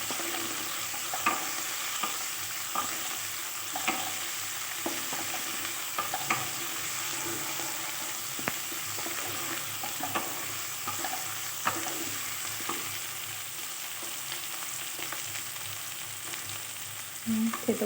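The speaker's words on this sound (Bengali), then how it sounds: "দিয়ে একটু নেড়ে চেড়ে নেব।" Chopped tomato fries in a pan for a prawn bharta, a steady loud sizzle running throughout while a utensil stirs and scrapes with soft, irregular knocks.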